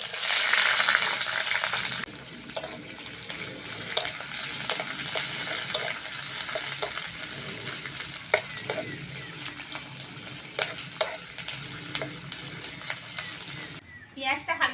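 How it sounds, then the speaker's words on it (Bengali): Chopped onion sizzles in oil in a wok for a potato and pointed gourd curry. The steady frying crackle comes with spatula scrapes and clicks, after a short burst of running water at the start. "তেলের মধ্যে দিয়ে দেবো কুচনো পেঁয়াজ।"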